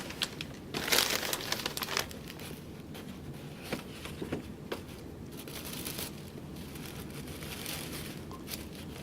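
Wrapping paper is torn away from a gift and crumpled, giving a busy run of close crinkling and ripping with sharp bursts early on that settle into quieter rustling.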